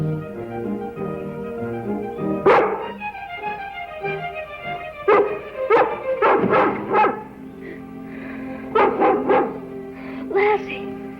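A collie barks repeatedly in short bursts, loud and close, with clusters of sharp barks spread through the clip amid a soft background hum.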